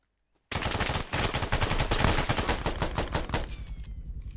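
Rapid gunfire in an urban warfare drill, a dense sustained burst of loud, close shots, nearly continuous for about three seconds before tapering off.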